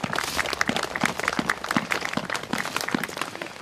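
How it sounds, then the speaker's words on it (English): Outdoor audience at a Veterans Day ceremony at a veterans memorial in Stillwater, Minnesota claps steadily, a dense, even round of applause from a crowd that carries on for a few seconds without voices. "we'll give him a nice round of applause for coming out here today"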